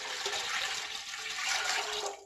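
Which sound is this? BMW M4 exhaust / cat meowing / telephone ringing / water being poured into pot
water being poured into pot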